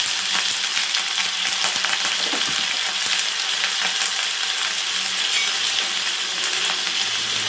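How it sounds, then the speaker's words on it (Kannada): Onion and curry leaves fry in oil for radish sambar, a close, steady sizzle with crackling pops and a few scraping stirs throughout. "ಒಂದು 2 ನಿಮಿಷ ನೀಟಾಗಿ ಫ್ರೈ ಮಾಡ್ಕೊಳ್ಳೋಣ."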